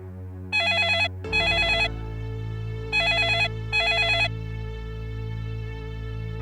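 A telephone rings on a call home, two bursts of bright repeated electronic trills in each of two rings, loud and close over a steady low hum, with no talk.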